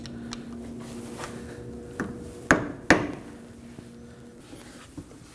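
A flathead screwdriver is struck to stake the CV axle nut on a 2016-2020 Kia Sorento, giving two sharp metallic taps close together, with a few lighter clicks and knocks around them.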